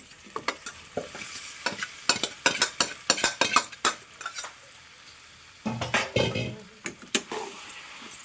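Cooked pasta tossed into a pan of tomato sauce and stirred: a run of sharp spoon-on-pan clatters and scrapes over a soft sizzle, then a brief burst of louder frying, close up with no talking.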